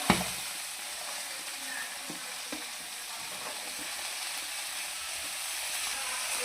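Green chillies and snake gourd pieces fry in hot oil in a pan, a soft, steady sizzle with a sharp clink at the start and occasional light scrapes and knocks.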